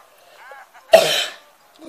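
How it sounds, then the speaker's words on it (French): A soft murmur of speech, then one abrupt, close allergy cough that trails off briefly before talking resumes faintly. "Désolé si je tousse, c'est mon allergie."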